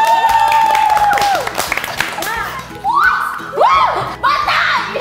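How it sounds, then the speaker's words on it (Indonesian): A studio audience on an esports entertainment show claps in a noisy burst, mixed with excited shouting and high-pitched screams from the crowd. "Tepuk tangan!"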